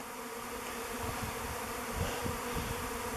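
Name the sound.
swarm of bees buzzing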